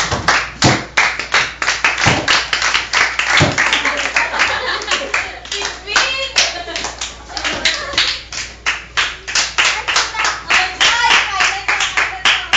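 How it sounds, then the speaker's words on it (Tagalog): Children clap their hands together in a classroom, a steady run of sharp, close claps in uneven bursts of rhythm, with voices chattering faintly beneath them. "Lahat na tayo pumalakpak."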